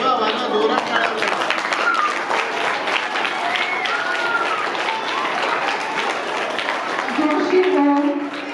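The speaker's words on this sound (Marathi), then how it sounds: "जोरात टाळ्या वाजवा." A school audience at a Youth Awareness Day event at Bhave High School claps steadily, dense continuous applause from a crowd with some voices mixed in.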